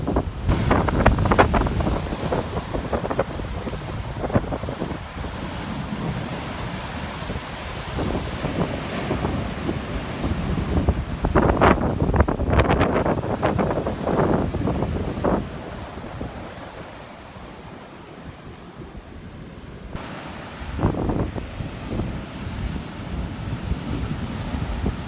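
Waves crash and wash onto a cold, damp beach while wind buffets the microphone, with loud surges of surf rising and falling over a constant rushing roar and no voices.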